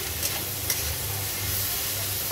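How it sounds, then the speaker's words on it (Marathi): Spring onion greens being mixed by hand for about a minute into a homemade Chinese-style vegetable stir-fry, giving a steady, dense sizzle with soft stirring rustles throughout. "आता आपण याच्यात कांद्याची पात ॲड केली, तर ही कांद्याची पात पण याच्यामध्ये आपण 1 मिनिट असं हलकंसं हाताने त्याला मिक्स करून घेऊया"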